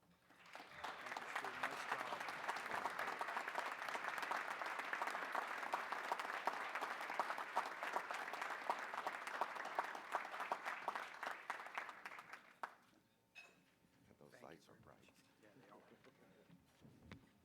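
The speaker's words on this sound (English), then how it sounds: "once again, we need to give some applause here to Doug" Applause from a luncheon audience at a celebration of a basketball tournament's 30th anniversary, steady and full for about twelve seconds before cutting off, followed by quieter room noise and faint talk.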